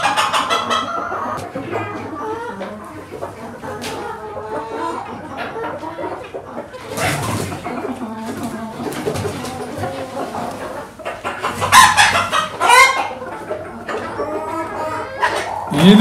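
Several ornamental chickens cluck and call close by in an irregular stream, with a louder burst of squawking toward the end; no clear crow stands out.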